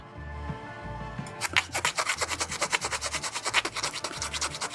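A plastic Bandai model kit part from the Patlabor Brocken Labor is rubbed briskly, a fast rhythmic scratching of regular strokes that starts after a quiet moment and stays close and prominent.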